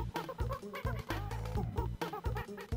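Bird squawking in Donkey Kong Country 2, a rapid run of choppy, clucking cries repeating in quick bursts, loud and close.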